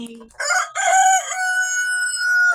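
Rhode Island Red chicken gives a couple of short clucks, then a loud, close crow that holds steady for about two seconds with no talking over it.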